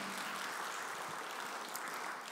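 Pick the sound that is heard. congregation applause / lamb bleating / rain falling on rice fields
congregation applause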